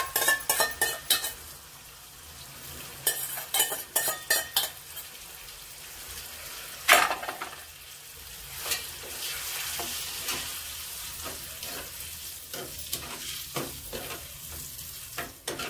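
Tamarind being stirred into hot oil in a pan, with steady frying sizzle and repeated scraping stirs, a sharp clank of metal utensils near the middle, all close and without voices.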